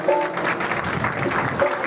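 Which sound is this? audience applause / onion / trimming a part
audience applause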